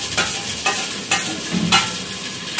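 Chopped tomatoes and chilies sizzle in a hot pan as they are stirred, with a steady close fry broken by several sharp scraping strokes of the spoon, no voices.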